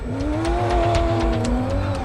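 Martin Prokop's rally car, nicknamed Shrek, running at a rally in Abu Dhabi: a loud, steady engine drone that rises and falls slightly in pitch, heard close and continuous, with no voices.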